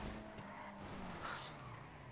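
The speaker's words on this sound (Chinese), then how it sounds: "他在刹车" A car braking and skidding in the Grand Theft Auto V video game, a quiet engine hum with a brief tire squeal near the middle, heard faintly in the background.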